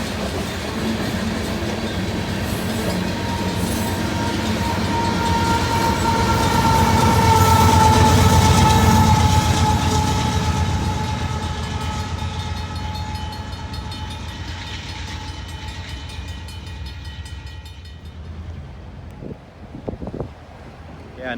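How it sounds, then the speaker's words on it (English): Freight trains passing, including a CP train: a loud, steady rail rumble with clattering wheels and a squealing tone that swells to a peak midway, then fades into quieter knocks and creaks. "now that that CP train is out of here, this one's starting to creep forward."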